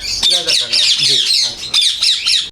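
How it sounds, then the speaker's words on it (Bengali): A parrot at a ringneck parrot farm in Bangladesh lets out a rapid series of harsh, loud squawks close by, in short bursts with brief gaps between them. "এটা হলো মূলত তোতা পাখি"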